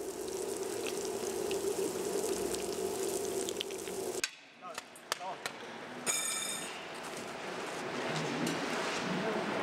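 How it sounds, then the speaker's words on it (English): Molten metal is poured into a traditional pot mold at a family pot-making workshop: a dense, sizzling rush gives way to a sudden hush, then a few sharp metallic knocks before the noisy hiss returns, heard close up. "pours liquid metal into the mold"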